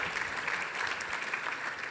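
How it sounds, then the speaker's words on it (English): An audience claps at an awards dinner, a steady wash of applause at moderate distance that holds evenly throughout. "So give them a round of applause."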